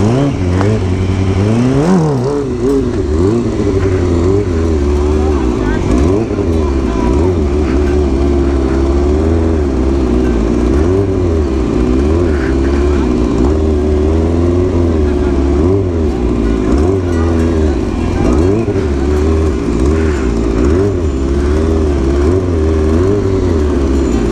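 Loud vehicle engine running close by, its pitch rising and falling with repeated revs over a steady drone, with voices talking over it at times.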